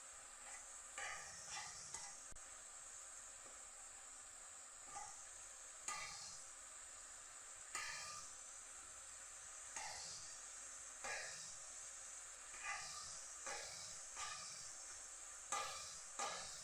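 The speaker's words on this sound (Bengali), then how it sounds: "আমি ঝোলটাকে কমাই নিচ্ছি।" Prawn and brinjal curry simmering in a pan as the gravy reduces, giving a steady soft sizzle and bubbling hiss, with intermittent louder stirring scrapes every couple of seconds, close and fairly quiet.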